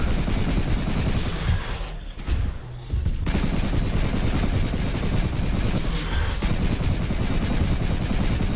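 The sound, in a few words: gunfire in the video game Luna Abyss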